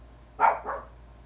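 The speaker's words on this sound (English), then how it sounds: "my neighbor dogs are going at it" Dogs next door barking, a short double bark heard at a moderate distance, brief and alone against a quiet background.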